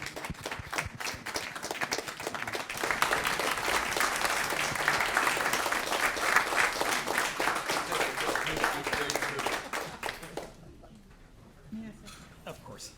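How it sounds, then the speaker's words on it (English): Applause at a county school board meeting, scattered claps building into a fuller, steady round of many hands for several seconds, then fading abruptly to near quiet with faint room sounds. "I think we all ought to stand up and give her a big applause."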